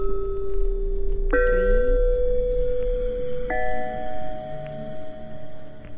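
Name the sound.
gong sound in video game Paper Bride 2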